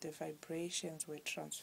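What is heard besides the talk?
No distinct noise like a dog, phone or traffic.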